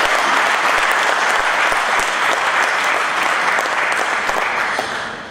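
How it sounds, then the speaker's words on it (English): Loud, sustained applause from a large audience at the ICAP National Finance Olympiad 2016, honouring the event volunteers and staff; dense, even clapping that holds steady and then tapers off at the end. "Please give them a big round of applause."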